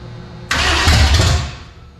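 Chevy 350 V8 swapped into a 1940 Plymouth, on a weak jump start, fires abruptly with a loud, rough burst that runs about a second before fading out.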